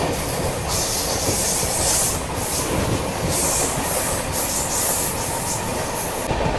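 A WDG3 Alco diesel locomotive runs past with a loud, steady roar and rumble of rolling wagons, wheels hissing and clattering continuously at close range, with no one talking.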